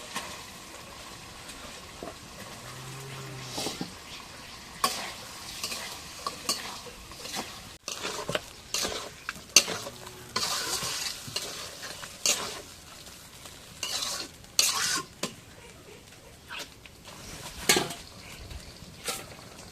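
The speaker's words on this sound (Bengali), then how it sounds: "মশলাটা কষে হয়ে গেছে মাংসগুলো দিয়ে দিই" Meat frying in a spice masala, a quiet continuous sizzle broken by repeated scraping stirs and clinks of a spoon against the pan, with no talk.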